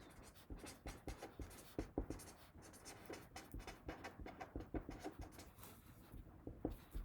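A pen or marker drawing an economics diagram by hand on paper, with quick scratchy strokes in an irregular rhythm, close and fairly quiet, continuing for several seconds without talk.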